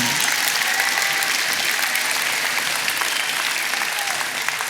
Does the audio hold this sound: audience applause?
yes